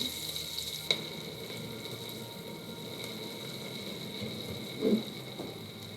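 Onions cook in a pot for tortilla soup with a faint, steady sizzle and bubbling, low and even throughout, with a soft clink near one second and a brief knock near five seconds.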